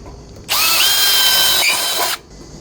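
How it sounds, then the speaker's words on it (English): Power drill boring a hole into a roof fascia: a loud, close, high whine that starts abruptly, holds steady for under two seconds with a brief dip near the end, then stops sharply. "So now I'll just drill those holes."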